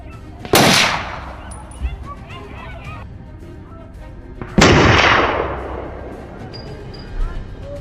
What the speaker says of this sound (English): The gunfire shattered the silence.